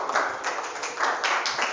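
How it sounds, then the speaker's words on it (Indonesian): Classroom applause for a student group during a high school maths lesson, a brief burst of many hands clapping together, dense and fairly loud with no talking. "Tepuk tangan buat kelompok 2."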